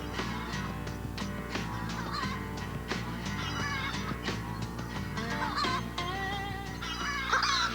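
Show chickens being readied for a big chicken show cluck and honk repeatedly in a busy, overlapping chorus close by, with steady calls throughout.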